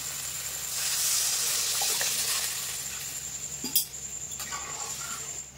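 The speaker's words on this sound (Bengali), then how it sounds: "এবার পরিমাণ মতো জল দিয়ে দেবো" Water trickles and splashes into sizzling fried spice paste in a pan for a Bengali fish curry, a soft steady pour with a few sharp clinks near the end.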